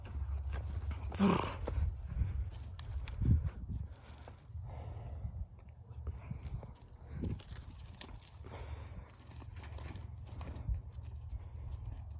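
A heavy draft horse walks outdoors, its hooves clip-clopping in an uneven, fairly faint rhythm, with a few snorts and louder knocks over a low background rumble.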